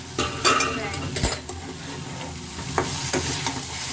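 Cooked greens in a pan are stirred with a utensil, giving soft scraping clatters and light taps on metal over a quiet sizzle, with a few louder knocks against the pan.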